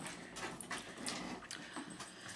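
A dog whimpers and pants indoors with a cat nearby, several short whiny bursts and faint scrabbling spread over a couple of seconds, moderately close with no talk.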